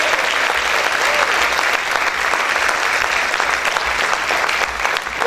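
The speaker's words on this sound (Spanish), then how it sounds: "¿Cuántos pueden aplaudir más fuerte al Señor?" A church congregation applauds loudly and continuously during a sermon, a dense, sustained roar of many hands clapping that fills the room without pause.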